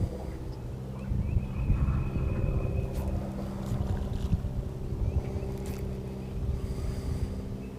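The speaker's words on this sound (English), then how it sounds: "there's one boat below me and there's one boat above me" A low engine rumble of a boat on a river, steady and fairly close, with wind buffeting the microphone throughout.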